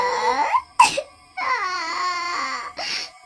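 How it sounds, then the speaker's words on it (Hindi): A woman cries in a horror story scene, with wavering sobbing wails in two long stretches broken by sharp gasping breaths, loud and close with no talk over it. "बबलू को अचानक किसी औरत के रोने की आवाज आती है।"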